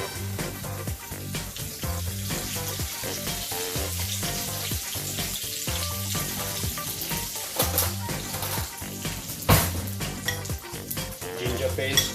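Cumin seeds and curry leaves sizzle in a pan for sabudana khichdi, a steady, crackling fry that runs throughout under a tonal background with occasional clinks.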